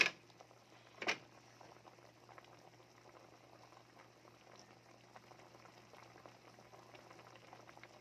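Ginataang papaya with malunggay bubbles in a pot, a soft steady simmering hiss with faint patter throughout, broken by one sharp clank near the start.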